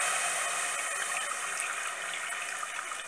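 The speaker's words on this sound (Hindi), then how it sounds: "पानी डाल देंगे इसमें।" Water pours into a cooking pot for boiling spinach for palak paneer, a continuous close splashing rush filling the whole stretch at steady loudness.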